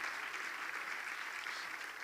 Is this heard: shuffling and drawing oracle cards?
no